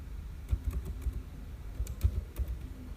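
Typing on a computer keyboard, a close, quiet run of irregular key taps in small bursts with no talk.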